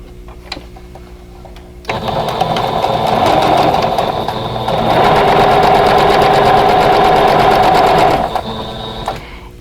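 A sewing machine stitches a blue triangle onto a pink piece for a vintage quilt block, starting after a quiet moment and then running steadily and close for about eight seconds with a brief change in speed midway.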